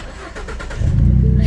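Jeep Trackhawk with an aftermarket exhaust, its engine rising into a loud, deep, sustained rumble after a quieter idle, close by and alone.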